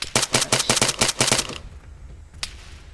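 Rapid bursts of gunfire in Arma 3, a loud string of closely spaced shots over about a second and a half, then quiet and one more lone shot.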